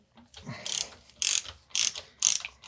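A socket ratchet turns in repeated bursts while screwing down a threaded part of a Fox Float 34 Performance GRIP fork damper during a service. There are four distinct clicking runs, close and clear, with no talk.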